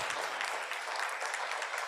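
A summit audience breaks into continuous applause, a soft, even patter of many hands clapping together, heard from a distance and fairly quiet.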